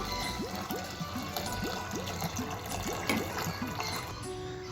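Hot water is poured into cooked mung dal in a pot, a continuous bubbling trickle and glugging with a rhythmic series of gulping pulses, fairly close and alone.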